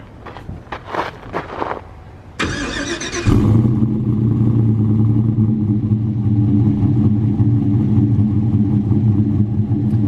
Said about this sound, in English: what a built truck sounds like compared to my stock truck